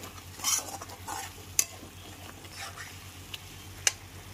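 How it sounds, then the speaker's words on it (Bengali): A spoon stirs sugar into a vegetarian Bengali dahi potol curry of pointed gourd, making soft scraping strokes over a faint sizzle, with a few sharp clinks against the pan. "চিনিটা খুব ভালো করে মিশিয়ে দিচ্ছি।"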